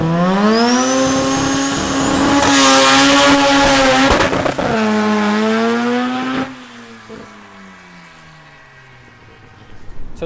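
A Datsun drag car launches, its loud engine roaring at high revs, climbing in pitch with a tire squeal, then fading away into the distance over the last few seconds.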